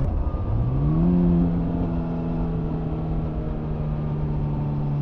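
A Suzuki GSX-S950 motorcycle engine, a 2021 A2 version, revs up as the bike accelerates toward the curves. A steady, loud engine drone rises in pitch around the first second and then holds a constant tone, with no talking over it.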